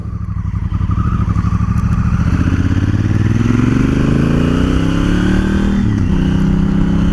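Engine note of a 2018 Honda CRF1000L Africa Twin adventure motorcycle during slow-speed turning, a steady close rumble throughout with gentle rises and falls in pitch as the throttle is feathered, a brief dip near the end.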